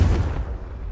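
A Confringo spell explodes in Hogwarts Legacy with a deep, booming burst that hits at once and then rumbles away over about a second.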